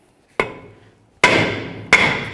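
Hammer blows on a seized brake rotor of a 1999-2007 Chevy Silverado during a rear brake job, three sharp metallic strikes each with a ringing decay, loud and close with no talking.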